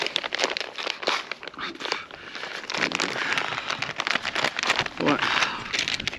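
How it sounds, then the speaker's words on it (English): A plastic bag being torn open and crinkled outdoors on a sunny day while setting up solar panels, giving busy rustling and crackling throughout, close and fairly loud, with a voice speaking over parts of it. "I can open this bag."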